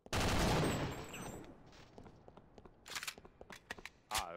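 Gunfire from the video game Half-Life in co-op play: a loud sustained burst of shots opens, then fades into scattered quieter shots and clicks.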